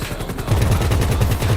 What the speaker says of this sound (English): That's a freaking cannon